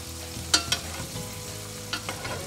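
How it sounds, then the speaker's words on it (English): Lamb steaks sizzle in a hot pan while being basted with sauce, a steady close frying hiss broken by a few sharp spoon clinks against the pan. "I'm going to start basting the steaks with that sauce"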